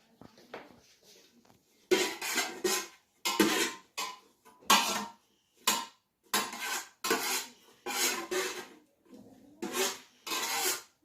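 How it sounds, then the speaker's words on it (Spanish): Utensils stirring briskly in a bowl, a run of repeated scraping and clinking strokes in bursts with short pauses, close and clear with no talking. "Listo, Rayita, ahora vamos a revolver."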